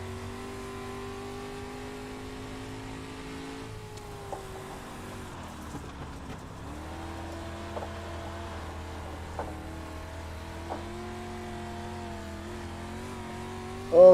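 A race car engine held at full throttle in the iRacing sim during an ARCA race, a loud steady drone with small pitch shifts and a few brief clicks, ending in a short sharp burst.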